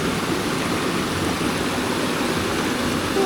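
A mini waterfall and stream at Taytay Waterfalls rush close and loud in a steady, dense wash of splashing water that never lets up.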